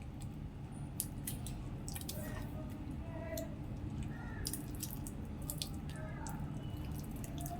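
Ripe mangoes are squeezed and mashed by hand in milk, with continuous wet squishing and dripping sounds close up, alone, in an even rhythm throughout.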